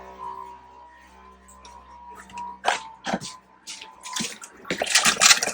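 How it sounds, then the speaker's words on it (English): Air spurts and splutters from a caravan's cold water tap during drain-down: irregular hissing, gushing bursts that grow busier and louder toward the end over a faint background hum. "When the air comes through, it'll splutter a bit."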